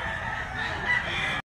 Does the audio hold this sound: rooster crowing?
yes